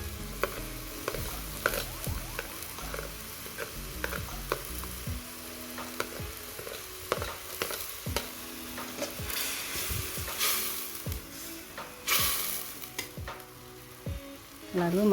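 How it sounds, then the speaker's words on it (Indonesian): Sliced green chili and curry leaves stir-fried in hot oil with fragrant spices, for a simple shrimp sauté: a steady close sizzle broken by repeated scraping clinks of a spatula stirring in the pan. "masukkan irisan cabai hijau dan daun kari"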